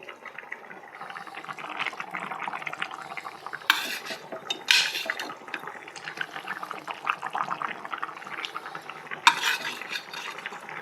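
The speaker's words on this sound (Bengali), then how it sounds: "ঝিঙে সিদ্ধ হয়ে গেছে, এখন এতে দিয়ে দেবো এই যে মাছগুলো।" Fish pieces go into ridge gourd simmering in a pan, with stirring, clinks of utensil on the pan and soft wet sizzling, close and moderately quiet, with no talking.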